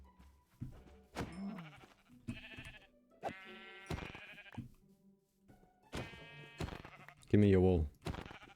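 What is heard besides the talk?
sheep bleating in a video game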